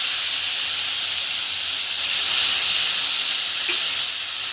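Food sautéing in a hot pan, a loud, steady hissing sizzle that swells slightly midway and continues without talk.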